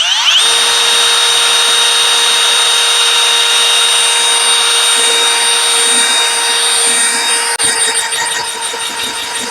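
A power mixer drives a paddle through epoxy resin, giving a loud, steady motor whine with a fixed high pitch that runs continuously and barely wavers before dipping slightly near the end.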